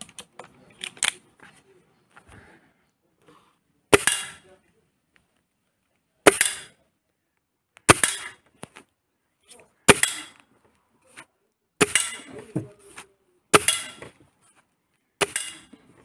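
Gamo Maxxim IGT Replay 10 .177 nitro piston air rifle fired repeatedly outdoors, sharp loud cracks at irregular intervals of one to three seconds, with faint clicks and handling noises between shots.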